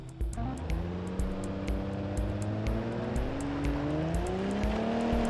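The engine of a two-wheel-drive car strains uphill with a sustained labouring drone whose pitch climbs slowly. Rhythmic clicks and ticks repeat over it, close and fairly loud, with no talking.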